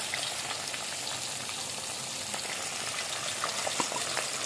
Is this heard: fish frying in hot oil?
yes